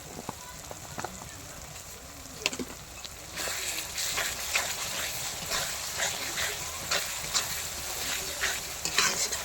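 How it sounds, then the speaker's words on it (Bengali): Turmeric and spice masala for a chicken curry frying in a pan: a quieter start, then after a few seconds a loud, steady sizzle with frequent stirring scrapes and clatter close by. "তো এই মশলাটাকে আমি এবার ভালোভাবে এবার কষিয়ে নেব"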